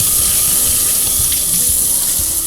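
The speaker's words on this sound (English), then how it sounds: "wash my hands" Water runs steadily from a kitchen tap while hands are washed beneath it, a close continuous hiss with soft irregular splashes.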